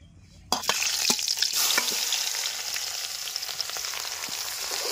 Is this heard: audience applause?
no